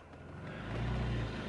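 A BMW E46 with a valved open/close exhaust idles with a deep, steady rumble that swells as the engine builds slightly. It is heard alone, close and moderately loud, with no talking.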